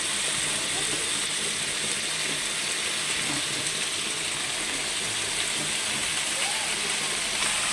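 Greens fry in a covered pan, giving a loud, steady sizzling hiss that fills the whole stretch without a break.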